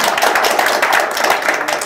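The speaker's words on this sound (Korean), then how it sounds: "감사의 박수 한 번 보내주시죠" An audience claps in thanks after a lecturer is introduced: a loud, continuous wash of many hands clapping close by, filling the whole short moment with no voices over it.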